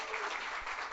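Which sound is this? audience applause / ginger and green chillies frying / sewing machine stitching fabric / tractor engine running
audience applause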